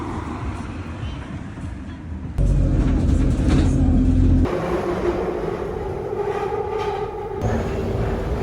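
A train journey toward Edinburgh, with a steady rumbling interior hum whose loudness shifts in distinct sections as the carriage moves, murmured voices faintly mixed in.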